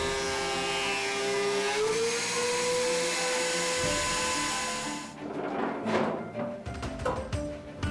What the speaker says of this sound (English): then I can run the whole thing through the planer